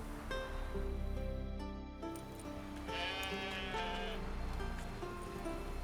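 Sheep in The Witcher 3: Wild Hunt bleat loudly and repeatedly, long wavering calls following one another in a steady, close sequence with no talking.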